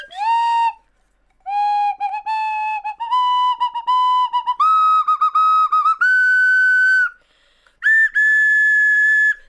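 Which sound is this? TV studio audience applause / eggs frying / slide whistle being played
slide whistle being played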